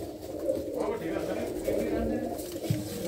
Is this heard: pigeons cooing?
yes